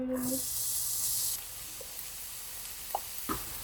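Celery and yellow onion sizzling in butter in a pan on a stovetop, a loud bright hiss for the first second that then drops to a quieter simmer broken by a few soft clinks of stirring.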